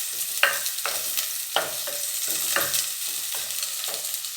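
Onions and green chillies sautéing in coconut oil in a clay pot: a steady close sizzle with repeated scraping stirs of a spoon against the pot at regular intervals, no voices.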